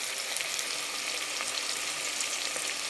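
Sliced onions sautéing in hot oil, giving a dense, steady sizzle that stays loud and constant throughout, with faint stirring underneath.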